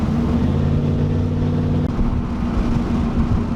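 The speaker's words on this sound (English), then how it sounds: "If there was any problems right there trying to accelerate foot to the floor in 4th gear, it would struggle." Chevrolet Camaro Z28 engine pulls hard under full throttle in fourth gear, a loud, steady low drone with a brief dip midway before it carries on.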